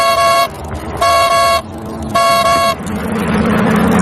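Car horn honking in a Hindi horror story, a vehicle pulling up right behind a boy's bicycle on a road: three loud, sustained blasts, then a wash of road noise.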